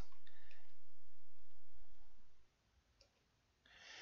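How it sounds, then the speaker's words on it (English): Small mechanical click in the Mean Streets video game, a few faint ticks following a low hum that cuts out, then a brief brighter burst at the end. "Makes a small clicking sound."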